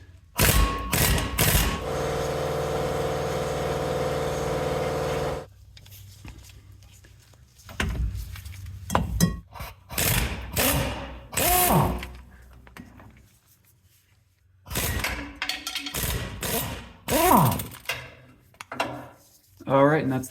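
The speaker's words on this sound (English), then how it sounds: "I'm just gonna spin these out with my impact" An impact wrench spins driveshaft bolts out of a 1994 Chevy K1500. Several short, loud rattling bursts are heard, one held for a few seconds, with clanks and thumps in between and someone talking in the gaps.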